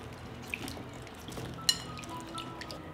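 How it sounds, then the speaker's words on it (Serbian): Peeled garlic cloves are swished through a bowl of water, giving soft, faint sloshing and a couple of small drips close by. "Ovako očišćen beli luk stavit ću u činiju sa vodom da se malo opere."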